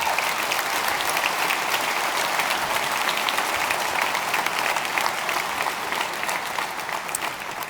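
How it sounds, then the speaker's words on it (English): At the West Deptford High School graduation in 2017, a large crowd applauds the educators with thick, continuous clapping that holds steady and eases only slightly toward the end. "Please give our educators a round of applause up there as well."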